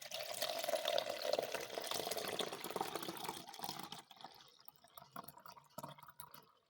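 Curds and whey being poured through a strainer during homemade cheesemaking, a continuous close liquid splash and trickle that thins into lighter drips toward the end.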